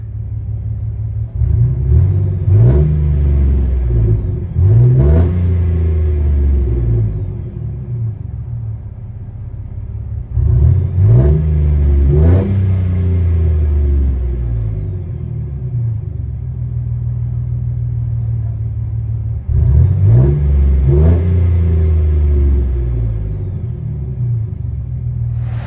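A 2006 Chevy Silverado single cab with a 4.3L V6, high-flow cats, Carven R-Series exhaust, 2.5-inch pipe and dual tips revs three times from inside the cab, each loud rumbling climb falling back to a deep idle.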